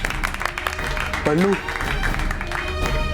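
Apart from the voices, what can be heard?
audience applause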